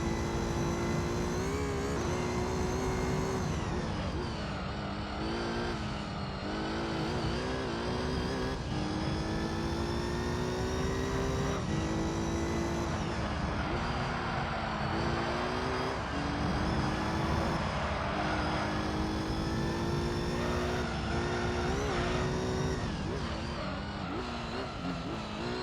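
Formula One car engine in Gran Turismo 3: A-Spec, a continuous high-pitched whine that rises and falls through gear changes, steady and close with no talking.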